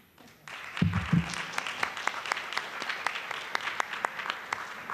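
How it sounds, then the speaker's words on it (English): An audience at an international mayors' forum session gives a steady round of applause after a brief pause, sustained clapping filling the hall with a faint voice early on. "Can you give him a round of applause?"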